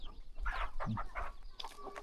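Chickens cluck in a remote mountain village, with a few short, close calls in quick succession and a brief louder squawk in the middle.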